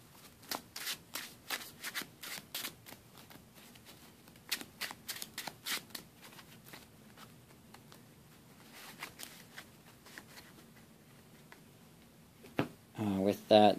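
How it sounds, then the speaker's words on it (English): Close, crisp riffle-shuffling of a deck of Pokémon trading cards in repeated quick bursts during a match, pausing between rounds, with faint voices in the background. "And shuffle our deck here."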